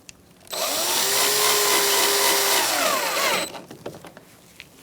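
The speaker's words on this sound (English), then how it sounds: "Now we can put our screws in." A power driver spins screws in while a headlight is replaced on a 2004-2009 Mazda 3, one loud, close whine lasting about three seconds that rises and then drops in pitch, followed by light clicks.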